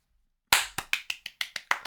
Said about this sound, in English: I don't know if my mic is picking up the clapping I'm doing